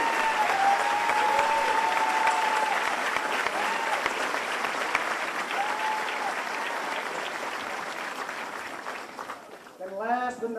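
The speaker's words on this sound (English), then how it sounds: "Let's give these young ones a applause, please." Sustained audience applause at a U.S. Army Ranger School graduation ceremony, steady and dense for about nine seconds before fading out, with a few faint voices rising near the end.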